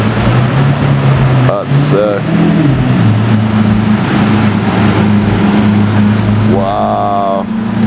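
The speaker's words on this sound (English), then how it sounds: "we got an all black Aventador. Roadster." An all-black Lamborghini Aventador Roadster drives past at night with a loud, steady engine drone and shifting pitch, heard alongside other traffic noise while a person speaks briefly nearby.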